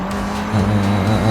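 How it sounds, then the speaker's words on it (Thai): A Honda car drifts in Forza Horizon 5, its engine droning loudly with a sustained tire squeal through a short, steady slide. "ดิฟสวย ดิฟสวยเกินรับไม่ได้ไม่เคยดิฟสวยขนาดนี้มาก่อน"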